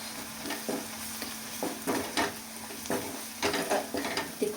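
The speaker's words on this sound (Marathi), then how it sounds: "तिखट छान परतून घेऊयात" Chili masala sautéing in hot oil for a spicy dry potato curry, with a spoon scraping the pan in irregular strokes over a soft, steady sizzle, close by and moderately loud.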